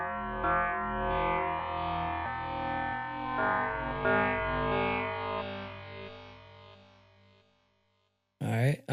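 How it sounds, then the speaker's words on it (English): A Logic Pro synth preset with wild LFO modulation sweeps through heavily effected, distorted and chorused tones, wobbling continuously for about eight seconds before a short, loud burst right at the end. "Crazy LFO sounds fitting."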